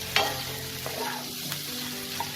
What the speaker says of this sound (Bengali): এবার আমি এতে ভেজে রাখা ফুলকপিগুলো দিয়ে দেবো।